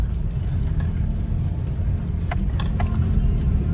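A 4x4 off-road vehicle in the desert runs its engine at full throttle in low second gear, giving a steady loud rumbling drone with a few faint clicks and rattles over it.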